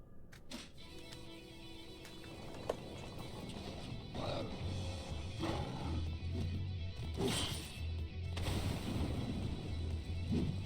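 Explosions and crashes in Final Fantasy XIV battle: several bursts and heavy impacts over a rumbling low bed of combat noise, moderately loud and spread across about ten seconds.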